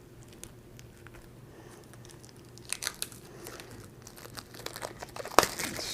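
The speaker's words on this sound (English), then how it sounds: "Let's take a quick stab at opening up some of these cards." Packs of Labyrinth: The Forever War game cards being torn open, with a soft, close crinkling and crumpling of wrappers that grows busier and louder toward the end, with a sharp tear near the finish.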